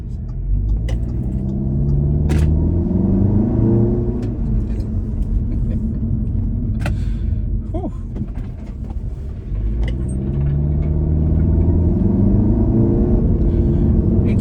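Audi A3 converted with an S3 engine swap accelerates hard as turbo boost builds, a loud, steady engine rumble with rising surges and shifts, heard from inside the car with no talking.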